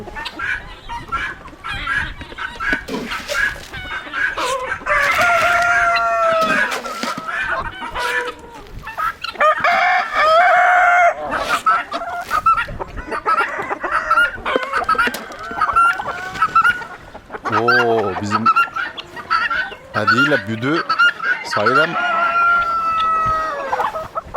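A flock of chickens clucks busily nearby while roosters crow several times, loud calls overlapping in a lively barnyard chorus.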